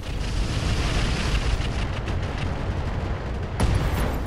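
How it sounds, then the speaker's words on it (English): An ammo explosion in the mech combat game Roguetech rumbles as a sustained, noisy roar with a sharp burst near the end, loud and continuous without talk. "Ammo explosion."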